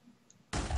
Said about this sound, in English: Sorry about the clicking noise, by the way, guys.